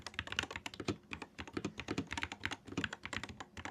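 Rapid clacking keystrokes on a hot-swap mechanical gaming keyboard with several layers of sound dampening, a steady irregular stream of crisp close-up clicks with no voices.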